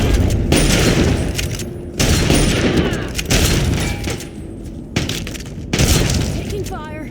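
Bursts of heavy gunfire and impact crashes from the video game Fallout 3 come in loud clustered volleys separated by short pauses, with speech mixed in.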